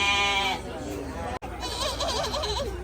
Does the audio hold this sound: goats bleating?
yes